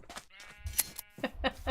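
Sheep bleating in the video game Minecraft, several short bleats in a quick series, fairly close, mixed with other brief clicky game sounds.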